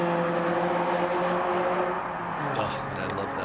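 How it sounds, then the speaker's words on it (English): A 2011 Scion tC's stock exhaust roars steadily at high speed on a racetrack road course, with a sustained engine drone that drops in pitch near the end as it eases off. "that is the stock exhaust system on the 2011 TC"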